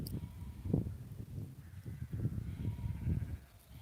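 Sheep bleating out in the countryside, several short calls spread across the moment, moderately near over a steady outdoor background with no talk.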